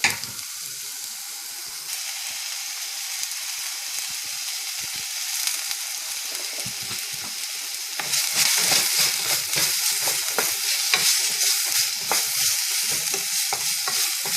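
Onions frying with salt in a pan for Bombay chutney, a steady bright sizzle with stirring scrapes that grows slightly louder partway through, no speech.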